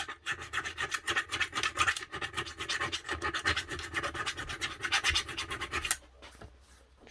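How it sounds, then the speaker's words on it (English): Abrasive scrubbing strips green corrosion from the commutator of a Makita HR5001C rotary hammer, a close, rapid back-and-forth rasp that repeats in quick strokes for about six seconds and then stops. "All you're doing is cleaning off that little bit of green corrosion."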